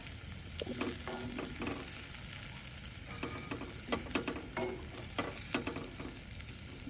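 Masala frying in a pan for a boiled egg fry, a steady near sizzle with repeated scraping stirs of a spatula throughout, no voices.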